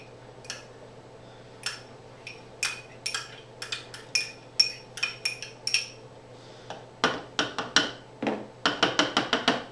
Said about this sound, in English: Then what we're going to do is we're going to add quinoa